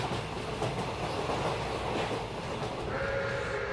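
A train speeding up, heard as a steady dense rumble of rolling wheels and rail noise, with a faint tonal whine rising near the end.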